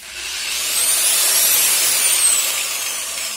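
Power tool cutting through a weld on a Keeway Superlight 125 motorcycle footpeg bracket, a loud steady high-pitched grinding whine with a slowly shifting pitch, alone without talk.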